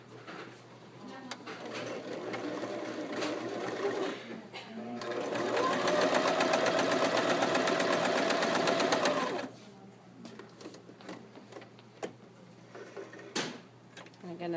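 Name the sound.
sewing machine stitching a second row of gathering stitches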